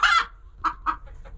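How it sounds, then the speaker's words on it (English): A small bantam hen clucks in a nesting box: one longer squawk followed by several short, close clucks in quick succession, with no talking. "is one of our little Banny hens. Bernice is in a nesting box that Cinnamon wants to use"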